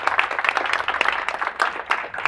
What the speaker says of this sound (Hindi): ढंग से ताली बजाओ यार।